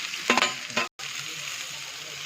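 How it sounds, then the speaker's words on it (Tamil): Mustard seeds splutter in hot oil for tomato rice, a few sharp crackling pops over a constant close sizzle. "இப்போ கடுகு நல்லா பொரியுது"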